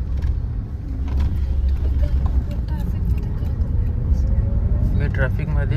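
Road traffic in Vangani, with a steady low rumble of car and bus engines, vehicles passing close by and a horn-like tone near the end, under frequent talk.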